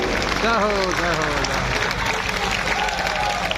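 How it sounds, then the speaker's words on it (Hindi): Loud, continuous applause from a large crowd of party workers at the inauguration of the BJP Delhi state office, with a voice speaking faintly underneath near the start. "सारे कार्यकर्ता मिलकर के जोरदार तालियों से आपका अभिनंदन करें"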